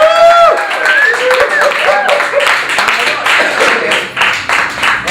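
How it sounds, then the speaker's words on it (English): Studio audience applause on a live Yorkshire television chat show, steady dense clapping with some cheering and whoops throughout, loud and close, no talking over it. "Let's have a round of applause."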